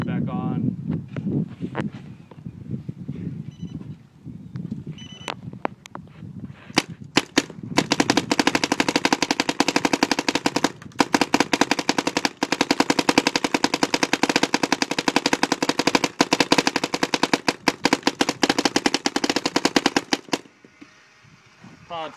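A 2012 Alien Invasion paintball gun fires long rapid strings of sharp shots, loud and close, after some talk and scattered single shots at the start.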